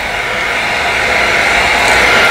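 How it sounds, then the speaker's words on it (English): A hair dryer blows hot air over a freshly painted crankbait fishing lure, a loud, steady, unbroken whoosh and motor whine that runs close and continuous with no one speaking. "A hair dryer works much better than a heat gun"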